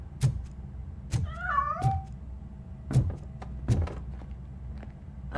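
A cat in the video game Robocop: Rogue City gives a short rising meow amid several dull thumps and knocks, fairly close and moderately loud.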